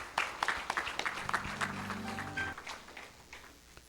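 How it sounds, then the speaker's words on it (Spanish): Scattered applause at a church service, a modest congregation clapping with irregular claps that thin out and fade toward the end, with a sustained musical tone underneath partway through. "Un aplauso a nuestro Señor."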